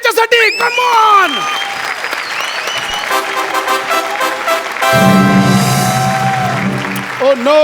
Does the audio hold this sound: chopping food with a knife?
no